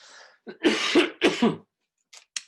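A man with allergies coughs and clears his throat in a church service setting, giving several harsh, close bursts in quick succession, followed by a few faint small sounds.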